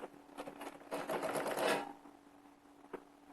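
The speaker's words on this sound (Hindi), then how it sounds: "अभी इसको ये फ्रेश सिलाई लगा देते हैं यहाँ से" Sewing machine stitching a kurti, a short burst of fast mechanical clatter rising and then easing off, fairly quiet, with a single click near the end and a low steady hum underneath.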